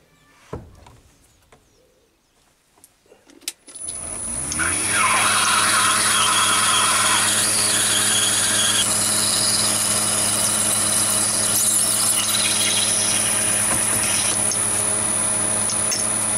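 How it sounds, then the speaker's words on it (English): Near silence with a few small clicks, then a Chinese mini lathe starts up and runs steadily as a drill bores into acetal plastic, a loud, even whine with a low hum. "I just drill down to meet the existing hole through the side there."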